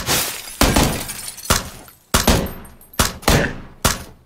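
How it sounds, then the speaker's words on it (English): Gunshots in a multiplayer video game ring out in heavy, evenly spaced blasts, about seven loud cracks roughly half a second apart, each with a harsh shattering tail, with no talking over them. "let's shoot"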